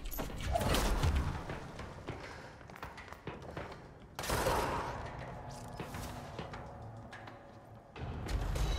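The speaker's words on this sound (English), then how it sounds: "Someone's shooting me." Enemy gunfire in the video game Control, dense crackling bursts that swell loudly twice over a busy mechanical background.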